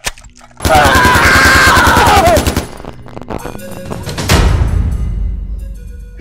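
Gunfire erupts in a compound as a loud, rapid burst of shots rattles for about two seconds, followed by scattered thuds and a heavy boom, with no voices.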